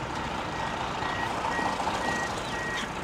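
A truck pulls aside on deep sandy ground, its reversing alarm sounding a steady series of evenly spaced beeps over a constant engine rumble.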